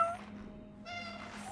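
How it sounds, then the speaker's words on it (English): A cat in the video game Cronos: The New Dawn meows over a low ambient hum: a short mew at the start, then a longer, drawn-out meow toward the end. "Oh, is that a cat?"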